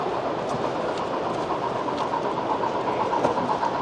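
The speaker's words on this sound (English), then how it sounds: "There's a locomotive with just a caboose in tow." A model train locomotive pulling just a caboose runs along a show layout at a model train fair, giving a steady, continuous rolling rumble with faint clicking wheels, close and even throughout with no talk.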